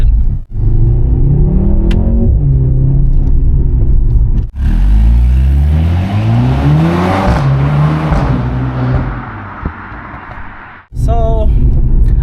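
Mercedes-AMG C43 turbo engine driving, loud growling revs that climb through gears with brief breaks between shifts, the engine note rising and falling close by.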